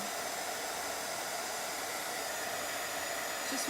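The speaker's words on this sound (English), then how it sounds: "This is really hot heat gun. So it's an embossing gun." A hot embossing heat gun blows steadily while drying a fabric craft project, producing a continuous close, even whoosh of air with no pauses or talk.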